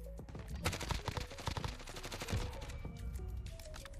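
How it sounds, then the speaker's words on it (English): Rapid automatic gunfire from Call of Duty Warzone rattles in dense bursts, loud and continuous through the whole stretch with a few heavier single cracks, with no voices heard. "Oh, shots to our left."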